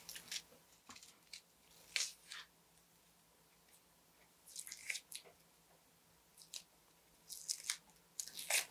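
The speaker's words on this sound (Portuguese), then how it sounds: "Esse aqui é um jeito brasileiro de descascar a cebola." An onion being peeled by hand in a kitchen, with dry papery skin crackling and tearing in short, irregular bursts of crisp rustling and snapping, close and fairly quiet.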